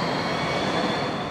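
An S-Bahn commuter train rumbles past nearby, a loud, steady roar of wheels on rails with a faint high whine over it and no voices.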